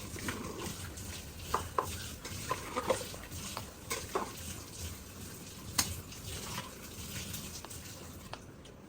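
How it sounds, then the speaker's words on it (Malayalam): Water poured into a pot of biriyani sloshes while a utensil stirs and scrapes, with irregular clinks and splashes at close range. "ഈ വെള്ളം കൂടി ഒഴിച്ചിട്ട് ഒന്ന് ഇളക്കി കൊടുക്കാം"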